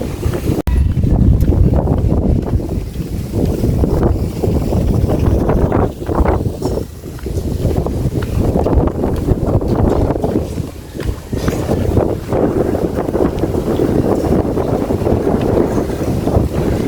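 Strong wind blowing outdoors under a darkening sky, buffeting the microphone in a loud, continuous rumbling roar with gusts rising and falling throughout, no voices.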